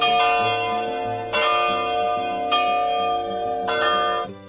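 Church bells ring out in a rich, sustained peal, with fresh strikes landing every second or so over a dense hum of overlapping tones.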